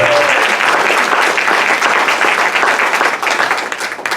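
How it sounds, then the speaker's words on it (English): A crowd applauds steadily and loudly for about four seconds, the clapping dense and continuous before tapering slightly at the end. "So how about a round of applause for them?"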